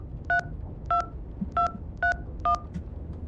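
Touch-tone telephone keypad tones as a number is dialed: six evenly spaced dual-tone beeps about half a second apart, clear over a low background hum, with no talking.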